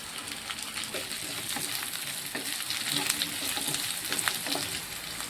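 Onions, garlic, ginger and green chillies sauté in a pan, a continuous close sizzle with occasional stirring scrapes and no talk.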